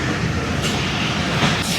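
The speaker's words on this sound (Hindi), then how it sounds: "लेकिन ब्रेक अप्लाई हो गए, क्या पता रुक भी जाए।" Train braking as it approaches Pattijan railway station, a continuous dense rumble and rushing roar with faint brief hiss bursts, close and loud throughout.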